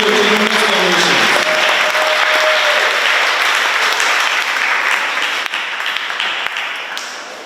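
Loud, sustained audience applause for donors at an Education Week program, a dense wash of many hands clapping that starts under a brief voice and tone, holds steady, then begins tapering near the end.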